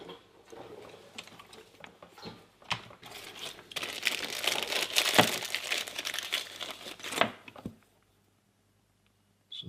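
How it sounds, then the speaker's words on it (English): Wire insulation is cut back for motorcycle auxiliary lights on an Africa Twin, with close, faint crinkling, snipping and scraping that swells in the middle and ends abruptly in silence. "we'll have to cut back the insulation"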